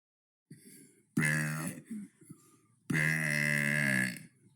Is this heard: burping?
yes